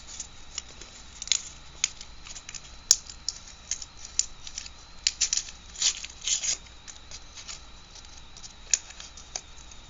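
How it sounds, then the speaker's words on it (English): Paper being peeled off by thumbnail: faint close crinkling and crisp tearing rustles in short irregular bursts, with quiet gaps between them. "I'm going to put my thumbnail in where the paper still is stuck and pull off everything I can by only touching this paper."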